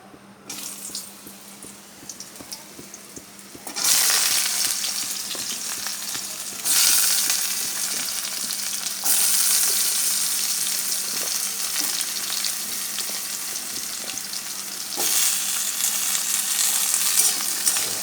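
Sweet pumpkin pieces hit a hot wok, bursting into a loud, steady sizzle that stays strong and close for most of the stretch, with occasional scraping stirs and no talking.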